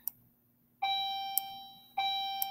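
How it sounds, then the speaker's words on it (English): Bells ringing twice in a row, each a bright, clear chime with a ringing tone that slowly fades before the next strike, heard alone without any voice. "Sorry about the bells."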